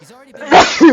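A character sneezes once in Persona 4 Golden, a sharp burst right after a brief line of in-game speech.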